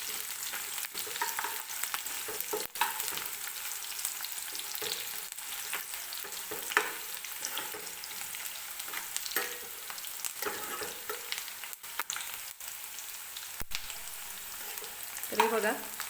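Onion frying in oil until lightly golden, a steady soft sizzle with frequent spatula scrapes and stirs against the pan, close and fairly quiet, with no voices.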